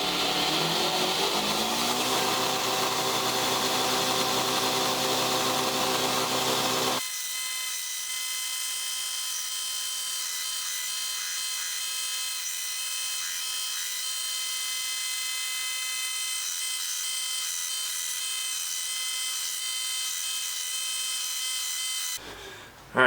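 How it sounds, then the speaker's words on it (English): A belt grinder finish grinding two Wilderness Special knife blades, giving a steady loud whine with a rougher grinding texture at the start that settles into a smooth sustained tone before cutting off. "we've got to jump right into finish grinding these two Wilderness Special knives"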